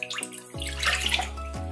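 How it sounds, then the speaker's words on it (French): Tap water runs steadily into a saucepan in a home kitchen, a continuous close splashing and gurgling stream that rises in pitch as the pan fills, with no talk. "je commence par remplir ma casserole de mon eau"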